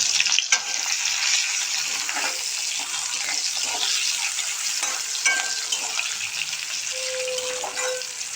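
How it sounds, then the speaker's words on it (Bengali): Capsicum frying in oil in a home kitchen during pasta making gives a continuous close sizzle with occasional stirring scrapes and small clinks, with no talk over it. "এবার এই তেলের মধ্যেই আমরা ক্যাপসিকামগুলো ভেজে নেব"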